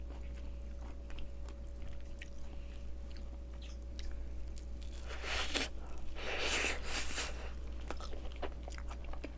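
Someone bites into and chews pastry desserts, such as a grapefruit tart with almond cream, close up: crisp crunching bursts rise midway over a steady low hum, without talk.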